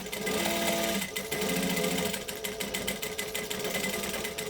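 A sewing machine runs steadily and close, its rapid mechanical stitching filling the whole stretch as it bastes leather bag pieces together.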